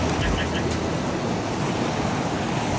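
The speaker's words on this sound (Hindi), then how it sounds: "बहुत ही सुंदर पानी बह रहा है और ठंडा, एकदम चिल्ड" Cold mountain stream water flows steadily near Pangong Lake in Ladakh, a continuous broadband rush with a wind-buffeted, close-up quality and no voices.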